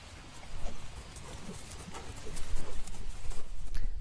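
Rhythmic thudding of horse hooves at a canter in an eventing dressage test, a repeated three-beat drumming that grows louder toward the end, with no talking.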